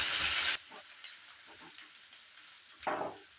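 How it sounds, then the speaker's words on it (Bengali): Potatoes for aloo dimer jhol dropped into hot oil with a loud hiss, then quieter frying and a few stirring scrapes, with another bright sizzling burst near the end, close and without speech. "এবার আলুটাকেও ভেজে নেব। দেওয়ার পর আবারও নেড়ে চেড়ে নিচ্ছি।"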